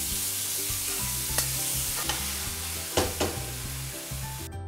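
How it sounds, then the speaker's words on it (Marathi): Finely chopped onions with salt frying in a pan, loud continuous sizzle with a few sharp spatula scrapes as it is stirred, heard up close with no one speaking. "सगळं मिक्स करून घ्यायचं आहे आणि कांदा थोडा शिजून द्यायचा आहे"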